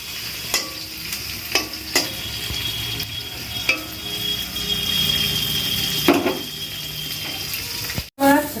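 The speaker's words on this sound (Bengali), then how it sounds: "মাছটা আগে ভেজে নিই ছোটো ছোটো কই মাছ" Small koi fish sizzle in hot oil with a steady crackle, punctuated by a few sharp clinks of a utensil against the pan.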